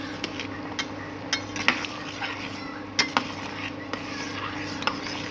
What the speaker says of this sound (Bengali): এবার আমরা ভালো করে নেড়ে নেবো।